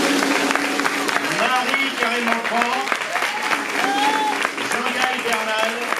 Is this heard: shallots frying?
no